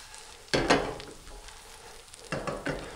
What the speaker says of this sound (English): I'm just pouring the butter around the edge and I'm moving it around because I want it to cook in